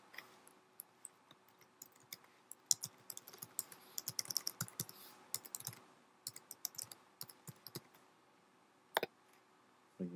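Fingers tap out irregular bursts of clicky keystrokes on a computer keyboard, close and quiet in a still room, with short pauses between runs of typing.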